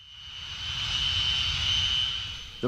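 A Messerschmitt Me-262 jet aircraft engine whines past, a sharp high-pitched turbine tone over a rushing roar that swells to a peak and fades again, with a brief knock at the very end.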